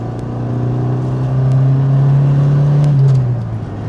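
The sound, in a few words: Mitsubishi Lancer sedan with fully stock exhaust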